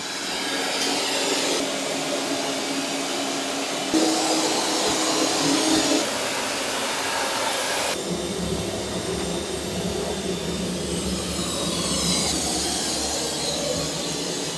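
A Lydsto W2 robot vacuum cleaner begins cleaning a floor, its motor and suction producing a loud continuous whooshing roar that shifts in tone every few seconds, with no voices.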